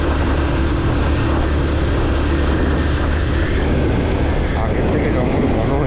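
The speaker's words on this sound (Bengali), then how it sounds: "বাইকের আওয়াজ।" A motorbike with two riders runs through Joypur forest at night, its engine a continuous loud, close roar, joined by wind rush and a faint voice at times.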